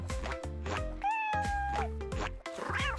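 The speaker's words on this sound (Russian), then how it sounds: "Хватит об меня тереться, глупый кот." A house cat meows indoors, several drawn-out rising and falling calls over music, loud and close.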